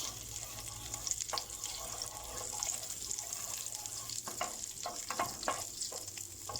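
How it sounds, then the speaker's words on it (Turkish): A soft, continuous sizzle of butter in a hot pan, with occasional scraping clicks from stirring, close and quiet throughout. "Tereyağımız eriyene kadar karıştırıyoruz."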